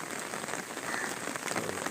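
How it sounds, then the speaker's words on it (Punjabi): Continuous rain patters on a surface nearby, an unbroken, even hiss of drops with no pauses. "ਲਗਾਤਾਰ ਮੀਂਹ ਪਈ ਜਾਂਦਾ"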